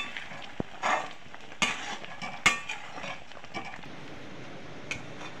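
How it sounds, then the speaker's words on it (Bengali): Cumin chicken is stirred in a pan, giving scattered metallic clinks and scrapes of a spoon against the pan over a quiet, faint background. "আর একটু নেড়ে নেবো।"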